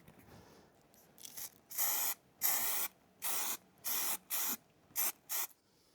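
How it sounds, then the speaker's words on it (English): Short bursts of aerosol spray glue hit a sound blanket being fitted around an air conditioner compressor, about eight close, loud hisses of varying length in a quick uneven rhythm, with no talk. "Little bit of extra glue right there."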